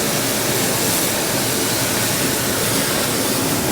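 Cold water running steadily in a milking parlour, a constant loud broadband rush with no breaks and no voices over it.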